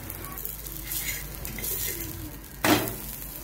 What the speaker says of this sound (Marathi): आता हे व्यवस्थित भाजून घ्यायचे आहे।